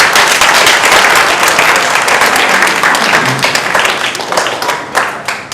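Sustained audience applause during a French spelling competition show, dense clapping filling the whole stretch and thinning slightly toward the end.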